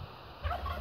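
A turkey in a pen shared with nesting ducks gives one brief, fairly faint gobble that rises quickly and then fades.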